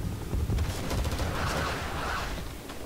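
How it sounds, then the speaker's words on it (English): Viet Cong artillery fire in Rising Storm 2, rapid overlapping booms and cracks blending into a dense rumbling barrage, loud and sustained throughout with heavy low-end thuds and scattered sharper reports. "Oh, Viet Cong artillery or something."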